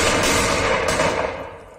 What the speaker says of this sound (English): Gunfire in your ear.